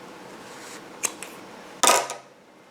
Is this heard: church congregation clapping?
no